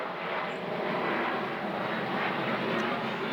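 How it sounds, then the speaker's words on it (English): A fixed-wing aeroplane passes overhead above an outdoor garden allotment, a loud continuous broad engine roar holding steady throughout, with no talking. "sorry about the aeroplane noise"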